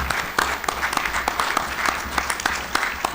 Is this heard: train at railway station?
no